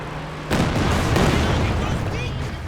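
Katyusha rocket artillery fires in Company of Heroes 2 with a sudden loud burst of booming salvo noise and rolling rumble that continues, set against game sound and some speech-like voices.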